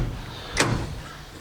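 A dented car door is opened with a single sharp clunk partway through, close and fairly loud over low background noise.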